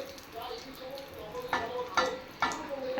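Soft, steady sizzling of dry red chilies and black cumin frying in oil, with a few sharp clinks of a utensil against the pan.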